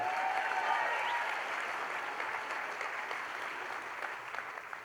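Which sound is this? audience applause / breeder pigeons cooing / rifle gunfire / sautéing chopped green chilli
audience applause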